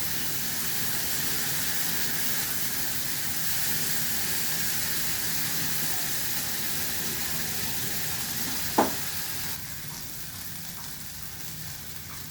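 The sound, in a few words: shrimp masala sautéing in a pan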